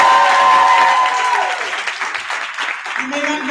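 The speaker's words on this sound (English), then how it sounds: "give them a round of applause" Audience applauding at a talk event featuring an NFL great and a motivational speaker, steady clapping that fades slightly over a few seconds while someone speaks over it.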